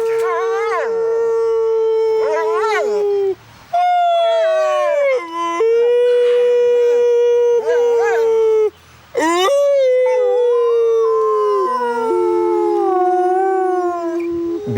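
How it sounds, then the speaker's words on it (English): Wolves from a pack of about thirty howl in long, sustained, overlapping tones that rise and fall and break briefly twice, loud and close, with several voices layered together. "howling is an element of communication which determines three things"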